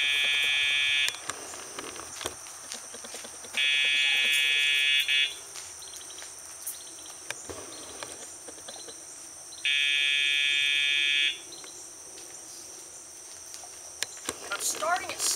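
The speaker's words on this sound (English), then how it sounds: "when you hear that buzzing sound, that's when she's feeling the vibration" A Dogtra e-collar sound box gives three loud, high-pitched electronic buzzes lasting about one to two seconds each, separated by pauses, outdoors during dog training, with scattered clicks and faint background noise between.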